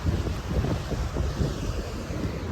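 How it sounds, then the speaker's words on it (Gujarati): Cold stream water in Pine Valley, Spiti, rushes steadily as a loud, continuous broadband wash with no voices over it. "અહીંયા મસ્ત ઠંડુ ઠંડુ પાણી જાય છે"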